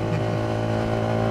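The loud exhaust of an Alphard motorcycle drones steadily while riding, a close, continuous rumble with slight shifts in pitch and no talk over it.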